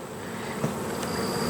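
Honey bees buzz at an open hive during a colony inspection, a steady, even drone filling the moment with no talking.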